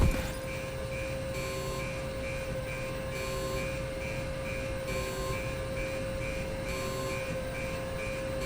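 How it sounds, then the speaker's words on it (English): A door in the video game American Arcadia beeps loudly, sounding a repeated electronic tone at steady intervals over a constant mechanical hum, with no talking. "Why is this door beeping so loud?"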